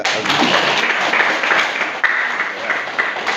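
A classroom of students applauds in an accounting lesson, a brief burst of scattered, close clapping with a few sharper individual claps standing out.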